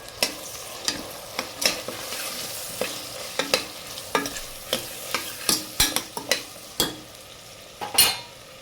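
A spoon stirs garam masala, kitchen king masala and red chili powder into frying paneer cashew vegetable pulao, giving steady sizzling with regular scraping strokes against the pan, close and alone.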